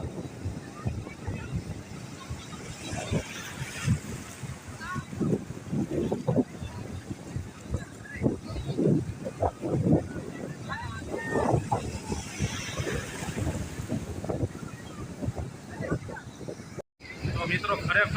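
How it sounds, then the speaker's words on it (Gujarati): Big sea waves surge and crash along the shore, rough with a strong current, in repeated heavy washes under gusty wind noise while people talk nearby. "એવા મોટા મોટા મોજા ઉછળી રહ્યા છે."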